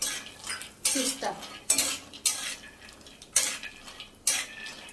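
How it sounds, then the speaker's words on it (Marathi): Cashews, almonds and pistachios stirred in ghee in a pan over a low flame, with several sharp metallic scrapes and clinks of a spoon against the pan over a soft, steady sizzle. "हे थोडेसे कलर चेंज होईपर्यंत आपल्याला तुपात परतवून घ्यायचे"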